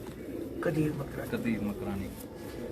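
Pigeons coo softly in a loft, low throaty calls blending under a voice speaking nearby.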